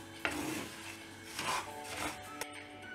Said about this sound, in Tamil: இப்போது இந்த கேழ்வரகை ஒரு பேனில் போட்டுட்டு இதை நல்லா வறுத்து எடுத்துக்கலாம்